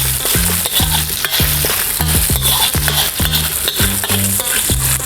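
Food fries in a pan while a utensil stirs and scrapes it in a quick, steady rhythm of repeated strokes, with a constant sizzle underneath and no talking.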